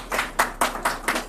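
A few hands clap in a steady, evenly spaced rhythm, about six sharp claps close by with no voices over them.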